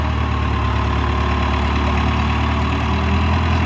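A 2001 SkyTrak 6036 telehandler's engine runs steadily while the four-wheel-steer machine drives, a loud, continuous low diesel rumble with a constant hum and no pauses.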